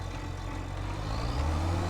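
A tractor engine in the Farming Simulator 25 video game hums as a steady low drone that swells slightly toward the end and runs without any talk.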